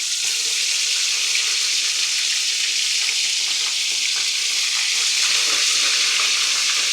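Ground beef country fried steaks sizzle steadily in hot grease in a pan just after being flipped, a loud, continuous crackling fry with no talking.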